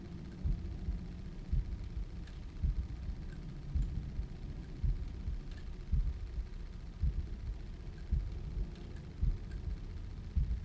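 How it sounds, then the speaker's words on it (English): Low, muffled heartbeat thumps pulse steadily in the background of The Room puzzle game, repeating at a slow, even rhythm under a dark ambient rumble, with no voices. "was there a heartbeat sound in the background?"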